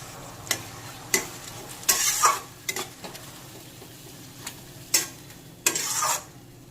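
Chicken curry with cumin powder, coriander powder and chopped tomato is stirred in a hot pan. Sharp scraping strokes and a couple of longer rasping stirs sound close over a low sizzle.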